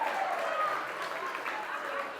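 Comedy show audience clapping for a stand-up set at a charity event, a steady wash of applause throughout with a murmur of crowd noise and no distinct pauses.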